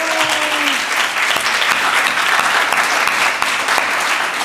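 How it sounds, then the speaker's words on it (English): A graduation crowd gives a loud, sustained ovation, dense clapping holding steady from start to finish, with a brief voice heard at the very beginning. "a round of applause and a standing ovation for Tzipi."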